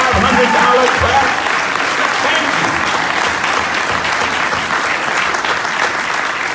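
Dense, loud clapping from a church audience acknowledging a $500 donation, sustained and even throughout with a faint murmur of voices underneath.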